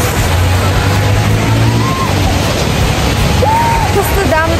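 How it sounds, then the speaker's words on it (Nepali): Heavy rain pours down outdoors in muddy ground among trees, a dense, loud, constant hiss filling the whole clip, with faint tonal calls rising through it and no clear speech. "कस्तो दामी पानी परिरहेको छ यार"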